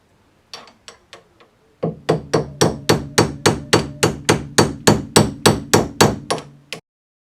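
Hammer striking a cold chisel against Porsche 928 suspension parts: a few light taps, then a rapid run of about twenty loud, ringing metallic blows at an even rhythm, close and with no talking.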